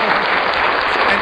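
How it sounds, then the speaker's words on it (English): Audience applause fills a local fashion talk show studio, a dense, loud, even wash of clapping with no break across the short stretch. "A round of applause."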